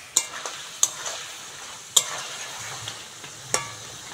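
Potatoes and spices stirred in a pan while flat beans are added, with a soft sizzle underneath and a few sharp scrapes or knocks of the spoon against the pan, close by and with no talking.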